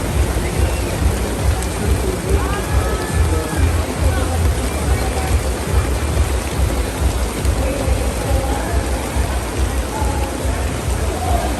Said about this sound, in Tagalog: Lakas pa rin ng ulan,